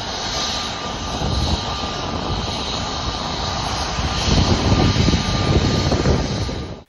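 A special flight airliner carrying the Indian cricket team arriving at Mumbai airport, its engines a loud, steady roar with a thin whine that swells slightly toward the end, heard alone without voices.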